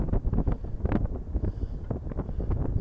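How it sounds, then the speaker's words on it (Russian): Strong warm wind buffets the microphone on a London street in continuous low, gusty rumbles, with no voices. "Ветер очень теплый."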